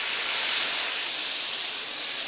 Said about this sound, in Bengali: ভাজা হয়ে গেছে, এখন পানিগুলো দিয়ে দেবো,